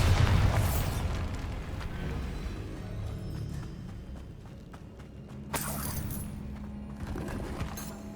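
A Bombarda spell in Hogwarts Legacy goes off in a loud, close explosion that opens the sound, with a rumbling decay and a second burst and crackle a few seconds later.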